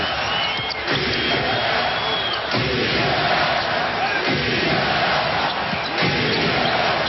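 Crowd in the arena at the 2007 NBA Finals Game 4, San Antonio against Cleveland, roaring and cheering in a loud, sustained wash, with thumps of a basketball bouncing and a few faint voices mixed in.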